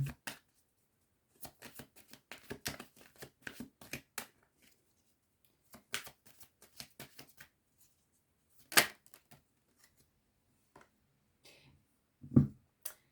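Tarot cards are shuffled and drawn close up in bursts of crisp riffling flicks and taps, separated by quiet pauses, with a couple of louder slaps as cards are set down.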